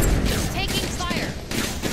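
Gunfire in Apex Legends comes as rapid bursts of shots, close and loud, over constant battle noise and game effects, with a voice speaking over it.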